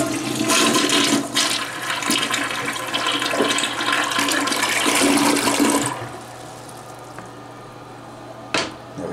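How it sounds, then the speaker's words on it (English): An American Standard toilet using 6 liters per flush flushes loudly in a hotel bathroom, a steady rushing roar of water that drops off after about six seconds into quieter refilling trickle, with a brief clunk near the end. "It is a American Standard, 6 liters per flush."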